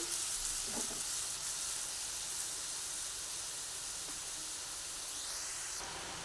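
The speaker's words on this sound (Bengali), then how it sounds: "এবার ভালোভাবে নাড়াচাড়া করে নিচ্ছি" Pointed gourd curry with salt being stirred in a hot pan, with a continuous soft sizzle and hiss and faint scraping of the spoon, fairly quiet and steady.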